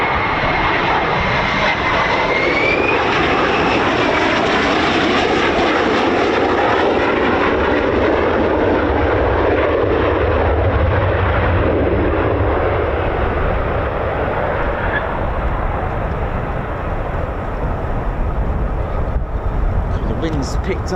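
An F-35 fighter jet at RAF Lakenheath roars loudly and continuously, a broad sustained rumble with wind noise, and people talk over it throughout.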